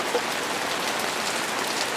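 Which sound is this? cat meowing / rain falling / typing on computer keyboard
rain falling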